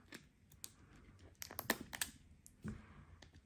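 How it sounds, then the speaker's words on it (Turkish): A few sharp snips of scissors and crinkly plastic clicks as scissors cut open a plastic toy egg, close by, irregular and fairly quiet, with handling noise between cuts. "makasla birazcık kolaylaştırayım"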